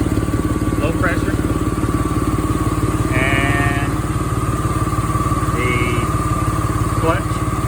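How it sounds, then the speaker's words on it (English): A 1999–2004 Ford Mustang's AC compressor runs with its clutch engaged beside the idling engine, a steady close mechanical drone with faint ticking and brief higher squeaks, while a voice talks over it. "Clutch is spinning now because it recognizes it has enough Freon to spin the compressor."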